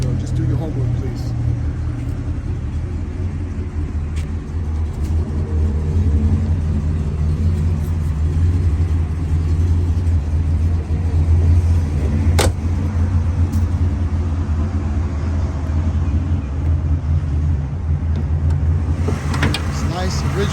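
A 1977 Chevrolet Impala Estate with its original 350 V8 runs steadily, a low, even rumble held for the whole stretch at close range, with a brief sharp click partway through and some faint handling noises.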